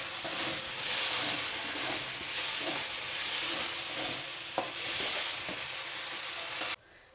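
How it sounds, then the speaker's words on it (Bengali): Chicken sizzles and fries in oil in a wok during mixed fried rice cooking, a steady hissing crackle with occasional stirring clinks, fairly quiet and alone until it cuts off near the end. "চিকেনও খুব সুন্দরভাবে ভাজা হয়ে গেছে, আমি নামিয়ে নেব"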